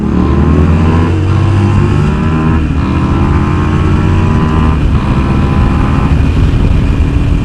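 A Harley Davidson 883 and a Suzuki SV650 accelerate hard side by side in a short drag race, loud engine roar with rising revs and gear changes, close by and with no talking.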